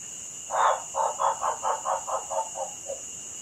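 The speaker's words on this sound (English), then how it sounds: "But our frog's call was more impressive than all of those, the waxy monkey frog." A waxy monkey frog gives a call of about ten short, rough croaks in a steady, slowing series, the first loudest and the rest fading, heard alone over a constant high hiss.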